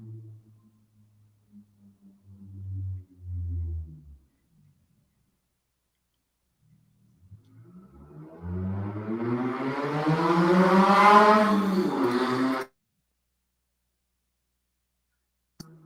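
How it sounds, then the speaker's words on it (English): A car engine idles low, then revs up in a rising, whining surge before cutting off abruptly, with silence afterward. "Apologies for that engine sound."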